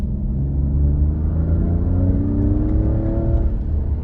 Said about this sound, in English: you can hear the instantly drops a gear, and then you can hear the exhaust revving away